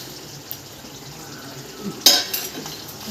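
Crab fry being stirred in a pan with curry leaves and coriander: soft scraping and a gentle sizzle, with one sharp metallic clink of the spoon against the pan and a few lighter knocks after it.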